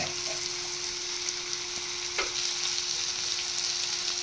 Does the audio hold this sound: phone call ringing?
no